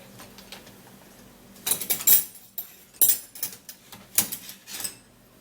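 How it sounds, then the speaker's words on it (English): Seeds tipped into a bowl make a run of small, dry clinking and rattling bursts that start after a quiet moment and repeat in short clusters, close and fairly clear. "we're going to be getting a bowl, and then you're going to be putting the seed into the bowl"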